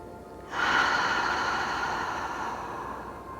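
A deep, slow breath during a relaxing yin yoga session, a sudden soft rush of air that swells and then fades gradually, close and steady.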